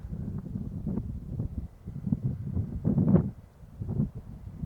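Low, rumbling gusts of wind at a lake in Lake Basin buffet the microphone, swelling and easing unevenly throughout.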